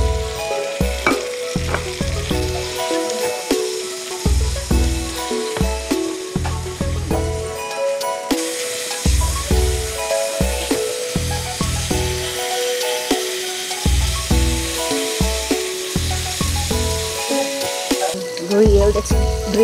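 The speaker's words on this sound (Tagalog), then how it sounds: "So lalagay na natin tong mga shrimp." Shrimp sizzle loudly in an enamel cast iron pan for a steak surf and turf, a steady frying hiss broken by repeated low clunks and scraping stirs, close and continuous with no talk.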